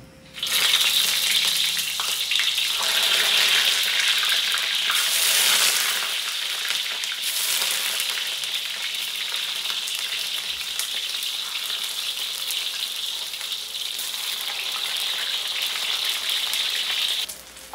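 Vegetables, likely eggplant, fry in hot oil in a pan with a loud, dense, continuous sizzle that starts suddenly, holds steady and close for the whole stretch, then drops away at the end.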